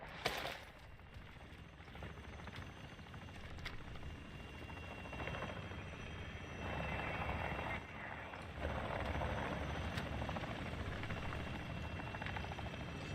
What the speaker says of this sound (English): the enemy attack helo is moving in your direction